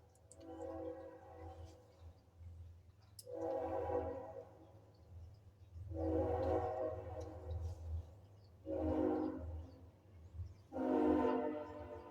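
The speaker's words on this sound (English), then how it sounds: "Here comes a train." A passing train rumbles steadily while its horn sounds five times in long, separated blasts, moderately distant and fairly loud.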